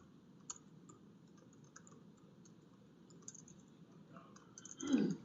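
Typing on a computer keyboard during a coding talk, faint scattered key clicks in a quiet room, with a louder burst of clicking near the end.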